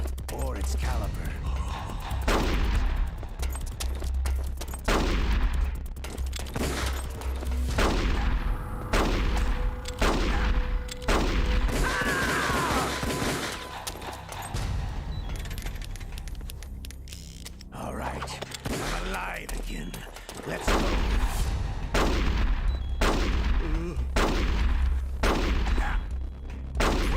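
Gunfire in a GameCube shooter game comes as repeated sharp cracks and bursts over a constant low rumble of in-game sound, steady and fairly loud throughout the half minute.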